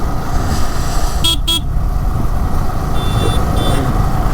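A vehicle on a hill road near Kodaikanal rumbles past close by with two short horn toots early on and a steady engine drone throughout.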